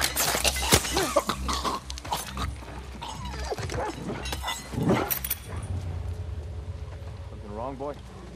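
A dog barks in The Last of Us Part II, with a few sharp barks early on amid game sound effects and a faint voice talking.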